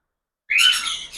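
Cockatiels give one bright, warbling chirp up close, with a rising whistle that trails off. It stands alone against a quiet background.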